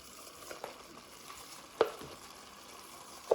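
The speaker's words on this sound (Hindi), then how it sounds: "यहाँ पे देखिए मैंने 5-6 मिनट इनको भून लिया।" Chicken frying in a pot for Turkish chicken biryani, a soft steady sizzle close by with a few sharp clinks of a spoon stirring against the pot.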